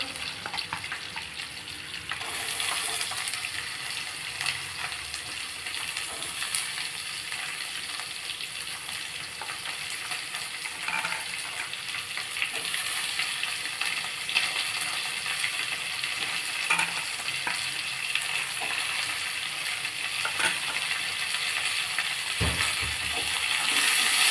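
Steady sizzling of onions frying in a hot pan, a continuous crackling hiss with occasional stirring scrapes, close and fairly loud, no talking.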